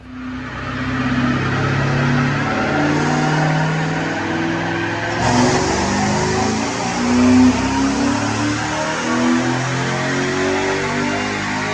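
A supercharged 2007 Mustang GT with an Edelbrock supercharger and manual transmission makes a dyno pull on 93 octane pump gas, a loud, sustained engine drone whose tones climb and shift as it revs.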